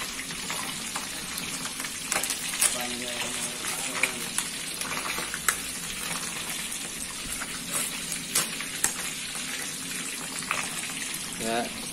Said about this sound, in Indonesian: Kita aduk dulu ikannya.